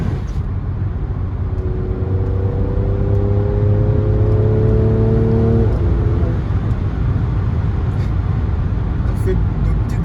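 A Mercedes C43 AMG accelerates from inside the cabin, its engine note climbing steadily for a few seconds before easing off, over constant road and wind roar, while someone talks.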